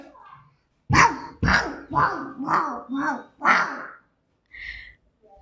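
A child imitates a dog barking outdoors, giving about six loud, rhythmic woofs in quick succession, followed by a short pause and a softer sound.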